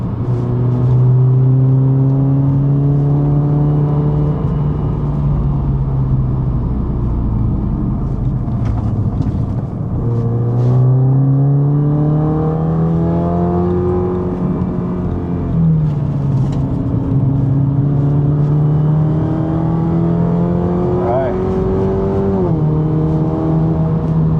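An Alfa Romeo Giulia 2.0T turbo four-cylinder is driven hard around a race track, its engine note climbing through the revs, dropping on each upshift and rising again in repeated sweeps, loud and steady from inside the car.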